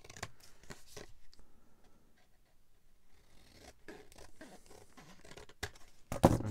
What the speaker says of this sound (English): we can use a pair of scissors and cut it down.